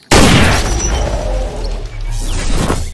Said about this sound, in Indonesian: Wow, tembakan pistol cowboy.